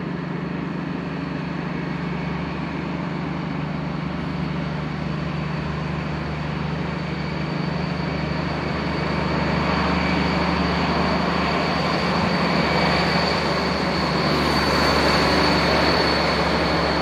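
A German class 218 diesel locomotive, number 218 216, restarting a passenger train bound for Trier: a steady, loud engine drone with a faint high whine that slowly swells as it pulls away, with no voices.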